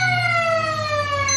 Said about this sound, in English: As indeed the siren does sound